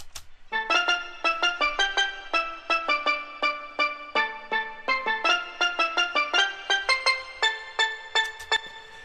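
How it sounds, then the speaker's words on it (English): A bright marimba-like island bell lead from a techno remix plays in double time, a fast, even run of plucked mallet notes, each struck twice, repeating steadily and clearly with no voice. "It's these marimba kind of island bells, something like that, and it's played in double time"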